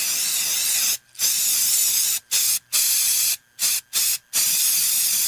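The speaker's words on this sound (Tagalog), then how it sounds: "Human ako i-spray direkta sa lamok, langaw ug ukok." Aerosol insecticide (Baygon Shield Defense) sprayed in several loud, close hissing bursts: a long spray, two short puffs, then three more quick bursts separated by brief silences, with no voices.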